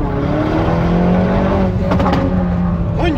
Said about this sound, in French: Oh, une Hyundai i30.